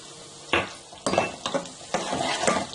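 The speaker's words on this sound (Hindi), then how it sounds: "अब वो प्याज जो हमने स्लाइस किया था, सबसे पहले हम उसको डालेंगे।" Sliced onions hit hot oil in a kadai for a chicken korma, with a steady sizzle and four or five sharp bursts of stirring and pan scraping, fairly close and without talk.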